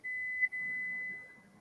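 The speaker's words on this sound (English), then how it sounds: "I have an alarm that's going off downstairs on the oven." An oven alarm downstairs gives a steady, thin whistling tone that holds for over a second with a brief dip, fairly faint and heard from a distance with no talk over it.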